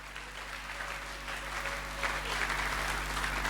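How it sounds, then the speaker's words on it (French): A church congregation applauds and cheers for the Lord Jesus during a sermon, a steady wash of clapping that swells slightly toward the end, heard at moderate distance with a low hum beneath. "Est-ce que quelqu'un peut acclamer le Seigneur Jésus?"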